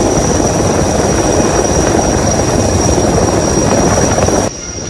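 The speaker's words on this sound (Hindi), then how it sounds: "देखिए किस तरह से इंडियन कोस्ट गार्ड का जवान हेलीकॉप्टर से उस छत पर उतर रहा है" An Indian Coast Guard helicopter hovers low to land on a rooftop during monsoon flood rescues in Gujarat, its rotor producing a loud, steady, unbroken roar that drops off sharply just before the end.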